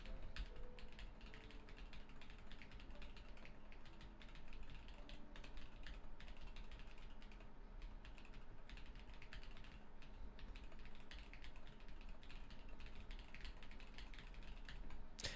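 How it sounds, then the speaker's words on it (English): Typing test on a mechanical keyboard with lubed switches, a quiet, continuous stream of rapid key clacks heard alone with no voices. "Just gonna try the typing test here."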